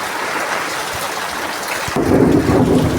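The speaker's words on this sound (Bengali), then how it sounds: "এই যে এখানে বৃষ্টির জল পড়ছে" Heavy rain pours down in a steady close roar, joined halfway through by a deep rumble of thunder that thickens the low end and stays under the downpour.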